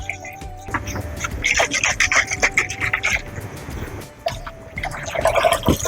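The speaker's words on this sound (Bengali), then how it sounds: "হালকা ঠান্ডা জল নিয়ে নিয়েছি এই ঠান্ডা জল একটু দিয়ে দেবো" Cold water is poured into a bowl of ground sesame paste in a kitchen, giving close, irregular splashing and trickling sounds with some clinks, fairly loud and without talk.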